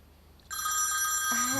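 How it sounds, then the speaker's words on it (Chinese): A telephone rings with a bright, steady electronic bell tone that starts abruptly and stays loud and close, following a moment of quiet room tone; a voice begins just at the end. "先打电话给徐夫人"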